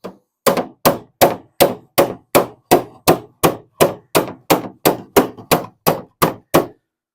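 Hammer and dolly striking a dented steel car body panel during dent repair: about sixteen evenly spaced, loud, sharp metallic blows in a steady rhythm, close up with no talking.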